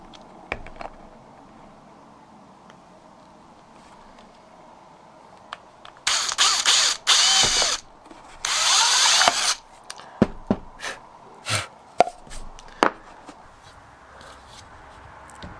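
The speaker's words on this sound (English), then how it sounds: "How about a good old pilot hole to begin with?" Power drill boring a pilot hole for a DIY solar shower on a Volkswagen camper, three loud close whirring bursts, each a second or two long, followed by scattered clicks and handling taps.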